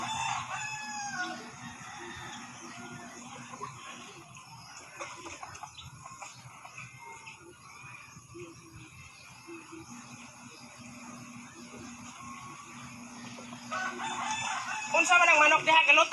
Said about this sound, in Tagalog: Galutaw ang manok.